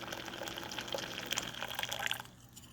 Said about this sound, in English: Fill it up about that much water.